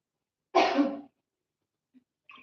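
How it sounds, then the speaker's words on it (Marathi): A single harsh cough bursts out up close, followed by a brief silence and a couple of faint breathy sounds. "थोडं थोडंसं खोकल्याचं प्रमाण वाढलाय थंडीमुळं"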